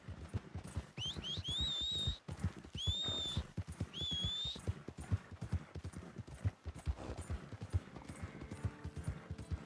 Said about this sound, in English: That's my other horse.